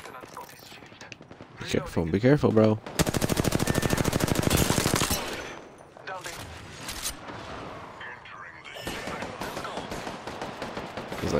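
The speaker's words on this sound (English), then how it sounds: "I'm taking fire." Gunfire in the video game Apex Legends: loud bursts of rapid automatic fire dominate the middle, with scattered shots and game effects around them while a player talks over the action.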